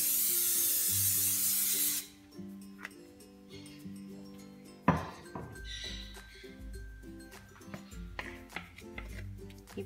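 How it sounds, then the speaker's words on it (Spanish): Cooking oil spray hisses from a can into a frying pan in a brief loud burst at the start. After it come quiet kitchen clinks and taps, with soft background music. "En un sartén le vamos a aplicar aceite en spray."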